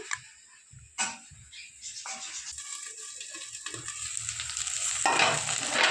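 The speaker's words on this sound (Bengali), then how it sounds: "তো দেখো এগুলো পুরো ভাজা ভাজা হয়ে গেছে" Vegetables for dudh shukto fry in a pan while being stirred, with a sharp clatter near the start and a steady sizzle that grows louder and fuller toward the end, with no talking.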